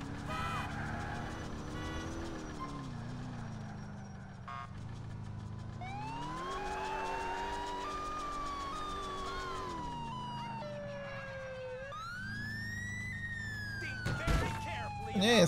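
Police car sirens wail and yelp continuously in the GTA IV video game, rising and falling in sweeping tones over engine noise, with someone talking over them and a louder burst near the end.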